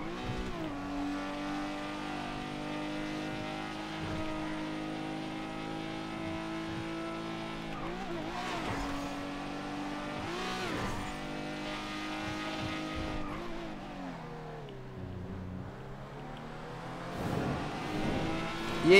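Car engine in a video game drag race, a steady sustained roar with rising and falling revs and shifts throughout, fairly loud, no talk.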